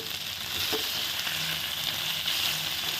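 Chicken roast with butter sizzles steadily in a pan as it is stirred, a close, even hiss with faint scraping and no talking.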